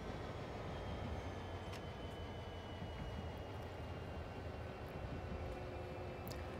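A locomotive pushes freight cars together in Train Sim World 2, heard as a constant low rolling rumble with a faint hiss and no clear break, steady throughout.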